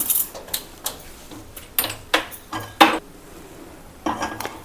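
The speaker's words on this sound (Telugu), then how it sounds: "స్టవ్ వెలిగించుకుని గిన్నె అయితే పెట్టేశాను." A cooking pot is set on a lit stove for an okra and raw prawn curry, with a series of sharp metallic clanks and knocks close by, spaced irregularly, and no talking.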